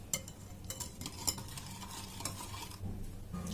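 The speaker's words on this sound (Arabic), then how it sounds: "لازم نخلطو حتى يذوب لنا السكر هذاك" Batter for an eggless, milkless dry sweet is stirred by hand until the sugar dissolves, making a soft, steady scraping and sloshing in a bowl with a few light knocks, close by and quiet, with no talking.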